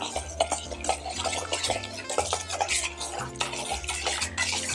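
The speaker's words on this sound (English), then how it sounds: "Just stirring it." Sourdough starter mixture with hot water being stirred in a bowl, a steady rhythmic scraping and clinking of a utensil against the dish, close and continuous.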